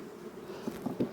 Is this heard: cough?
no